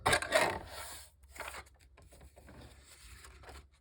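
A decal trimmer cuts paper with scratchy, rasping bursts, loudest at the start and again briefly midway, then softer scraping strokes, close to the microphone.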